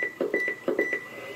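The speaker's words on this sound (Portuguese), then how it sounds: "O bip do rádio." A VR9000 two-way radio transceiver gives a series of short electronic beeps in quick succession, close and clear, with no voices.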